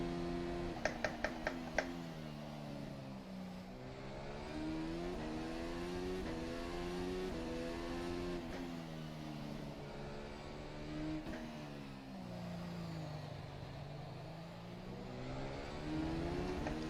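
An F1 2020 car engine in rFactor 2 at Zandvoort drones steadily through a timed lap, pitch rising and falling with shifts and corners, a few sharp clicks near the start, no talk.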